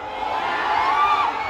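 Crowd at a live stunt show in Wave Mall, Jammu, cheering and shouting together in a steady, dense roar that holds throughout.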